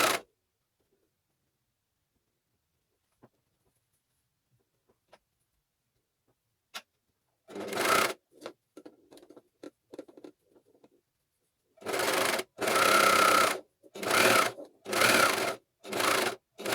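A Juki coverstitch machine fitted with a binder runs in short bursts, its rapid, even mechanical chatter starting and stopping several times, close up, with faint handling clicks between runs.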